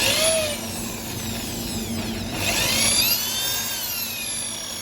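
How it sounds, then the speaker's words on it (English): A power drill bores into a shofar horn while the horn is turned and twisted to widen the mouthpiece, giving a steady high-pitched whine with a rising and falling grinding pitch, close and continuous. "And as I drill in, I will turn it, twist it so that I can get a certain diameter of the mouthpiece that I want."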